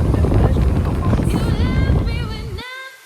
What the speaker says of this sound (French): Quelle joie de sentir le vent souffler, les vagues se cogner au rocher.